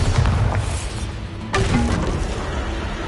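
A Bombarda explosion spell in Hogwarts Legacy lands with a sudden boom midway, rumbling low over ongoing game ambience and tailing off into a sustained roar.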